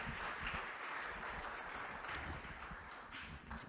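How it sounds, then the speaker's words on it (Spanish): A church congregation applauds visiting sisters, a soft, distant wash of steady clapping that fills the whole moment without voices. "Le damos un aplauso a nuestras hermanas"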